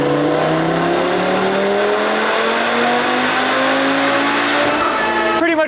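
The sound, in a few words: Audi RS3 engine revving on dyno with intake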